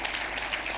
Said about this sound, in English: Let's give our program director a round of applause.